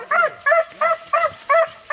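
Hunting dog during a wild boar hunt barks in a quick, loud series of five or six sharp yelping barks, evenly spaced and close.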